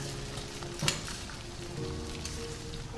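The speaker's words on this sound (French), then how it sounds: "j'ai un grand faitout avec de l'eau qui bout. Je vais ajouter" Coarse salt goes into a large pot of boiling water, giving a soft steady bubbling hiss with a brief sharp rattle as the grains land, fairly faint and without voices.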